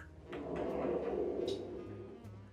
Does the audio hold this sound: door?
yes